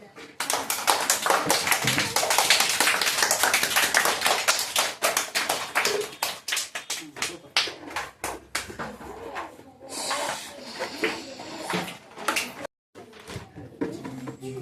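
A class of students claps for a prize-winning classmate, a dense burst of sharp, rapid hand claps that thins into scattered claps and then fades near the end.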